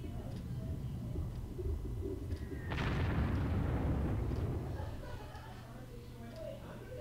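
A bomb detonating in a strategy war game set in an Operation Sealion scenario at Milton Keynes: a single broad blast that rolls out and decays over several seconds, heard amid low background ambience.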